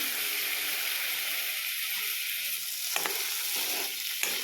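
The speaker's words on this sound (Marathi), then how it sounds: "कांदा देखील आता मी यामध्ये टॅमॅटो पातळ उभा चिरून घेतलेला टमॅटो टाकत आहे" Thinly sliced tomato goes into onions already frying in a pan, giving a steady broadband sizzle throughout, with a couple of brief scraping stir sounds near the end.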